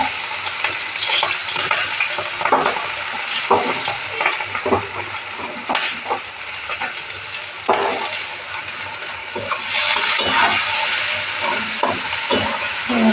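Onion, garlic and green chilli fry in a pan for a country chicken curry, a continuous close sizzle broken by repeated scraping stirring strokes, with no talking.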